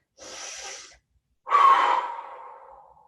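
Two deep breaths during a stretching workout, an airy inhale followed after a pause by a stronger, sighing exhale that fades out, close and quiet with no talking.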